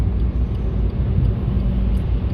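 A truck passes on a foggy highway with a steady, low rumble of engine and road noise, heard from inside a moving vehicle during a drive from Haridwar to Noida. No voices are heard.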